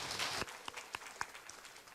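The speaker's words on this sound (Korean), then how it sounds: "큰 박수 부탁드립니다" Applause from attendees at a women's employment forum, a dense wash of clapping that fades within half a second, leaving a few scattered, isolated claps trailing off.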